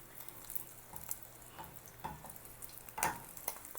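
Rice fries in a pan as Filipino sinangag, a quiet sizzle with several soft scraping strokes and a brief louder stir near the end.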